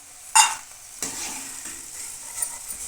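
Mandakki, puffed rice, is stirred and fried in oil over a low flame. A spatula scrapes and stirs through it in a few short strokes while the oil sizzles softly underneath.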